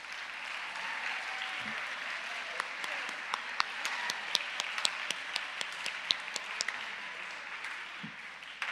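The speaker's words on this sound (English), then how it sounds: "A very big round of applause, please." Steady applause from a crowd at a Christian academy convocation, a dense patter of hand claps with sharper individual claps standing out, fairly distant and soft, lasting the whole stretch.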